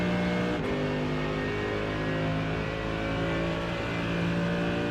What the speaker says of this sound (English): holding it flat in 3rd gear and shifting up to 4th at the end of this left-hander